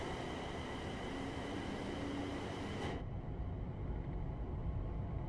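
An electric train in Train Sim World 5 accelerates with a constant motor drone and rail rumble, close and steady, its upper hiss dropping away partway through.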